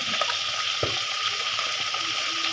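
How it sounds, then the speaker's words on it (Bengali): Water runs steadily from a tap as eggplants are washed, a constant hissing stream with a few small splashes and clunks. "এখন বেগুনগুলি ধুয়ে নিয়ে আসছি"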